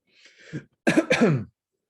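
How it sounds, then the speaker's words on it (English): A person clears their throat with a short raspy rumble, then a louder, two-part guttural clearing right after, close and alone. "I'm trying to clear my throat."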